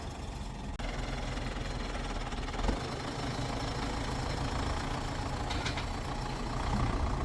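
Tractor engine running steadily on a Russian farm, a continuous low rumbling drone close by, with a brief thump early on and faint higher clatter near the end.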